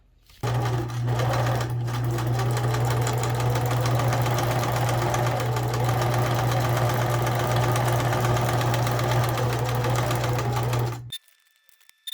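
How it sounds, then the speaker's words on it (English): A sewing machine stitches ribbon onto a handmade journal in a steady, loud, fast mechanical hum that runs continuously for about ten seconds. It then stops abruptly, leaving near silence. "I think I will sew the funky ribbon on"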